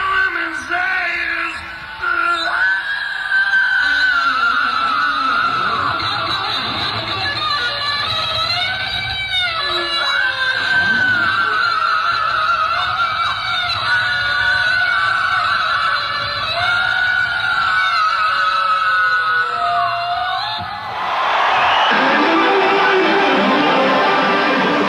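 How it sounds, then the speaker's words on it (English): A concert crowd screams, yells and cheers with sustained, wailing hollers. The din is loud and continuous, dips briefly, then surges into a harsher roar near the end. "they're rooting and they're hollering and they're screaming"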